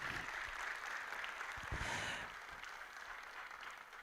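An audience claps steadily, a bit louder early on and then settling into softer, continuous applause.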